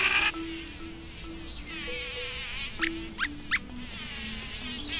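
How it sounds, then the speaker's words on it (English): A bee buzzes outdoors near a flower, a faint wavering drone that shifts in pitch as it moves, with a few brief sharper buzzes in the middle, against soft background noise. "Oh, look, there's a bee."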